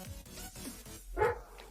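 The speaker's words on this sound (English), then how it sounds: "Hold on a sec, my dog is barking." A dog barks a few times, muffled and somewhat distant, with a louder bark near the end; no one speaks.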